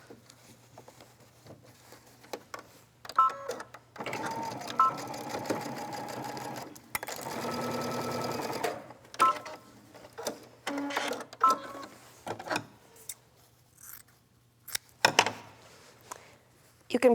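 A home sewing machine stitches a seam on a jacket, whirring in several close bursts of rapid mechanical clatter, including one long steady run, separated by pauses with small handling clicks and rustles.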